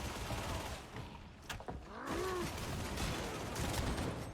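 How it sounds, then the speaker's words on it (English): Rapid automatic gunfire in a video game shooter, a dense sustained burst of shots close up with loud clattering bursts and a short gap in the middle, no talk over it. "But I have a machine gun."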